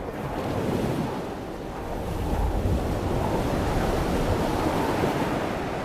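A full gale of 40 to 45 knots roars across the coast of Graham Island in Haida Gwaii. Loud wind buffets the microphone over a continuous wash of crashing surf.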